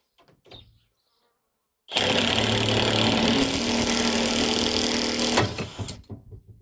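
After brief faint sounds, a handheld impact wrench whirs loudly and steadily for several seconds, then winds down, during suspension repair on a Ford Focus 3.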